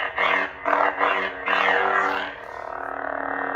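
A lightsaber running a Vader's assassin sound font makes several loud, smooth swings, each a whooshing surge. The whooshes then settle into a steady electric hum.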